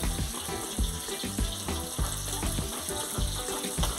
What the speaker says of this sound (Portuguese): Já tô começando a fritar os hambúrguer